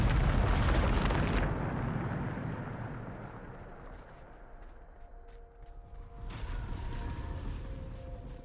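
A Bombarda blast spell explodes in Hogwarts Legacy, a loud, broad roaring burst that slowly fades into a low rumble, with scattered debris-like clicks and tones near the end.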